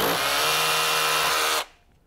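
A power drill fitted with a 3/16 bit bores into a gypsum roof deck beneath half-inch high-density board in one loud, close, continuous run of about a second and a half, then cuts off abruptly.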